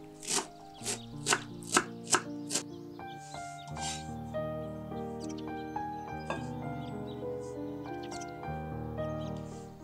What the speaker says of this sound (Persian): 65 گرم جعفری هم میخوایم که بعد ریز و ساتوری خورشون